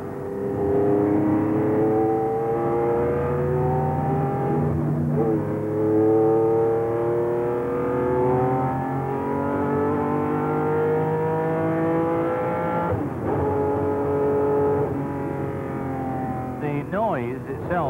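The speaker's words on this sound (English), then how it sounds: "The actual exhaust noise and the induction noise in itself can cause a vibration." A 1971 Ferrari 512 race car engine drones and climbs in pitch through repeated gear changes, exhaust and induction noise loud, with brief dips between shifts, close and continuous for the whole stretch.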